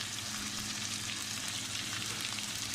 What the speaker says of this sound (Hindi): इसमें भी हम 5 से 10 मिनट फ्राई करेंगे ताकि ये सब चीज़ें अच्छी तरह इसके अंदर